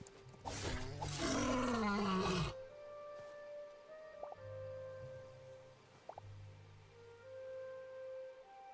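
A bear in the Hytale video game lets out a loud, drawn-out roar lasting a couple of seconds, followed by quieter game ambience with soft low rumbles and faint tones.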